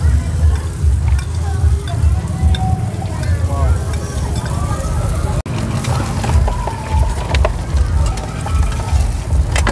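An unbeaten egg sizzles in oil at an Indonesian street-food cart, a steady close hiss with occasional scraping, while people chat over it.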